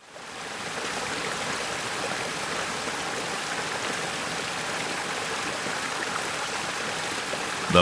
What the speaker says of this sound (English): The Bosch dishwasher sprays water at the perfect angle and pressure to remove even the most stubborn stains.